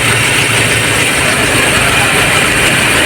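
The diesel engine of a 2018 Ford Ranger idles at a service centre during a maintenance check-up, a loud, close, steady low rumble that holds without change.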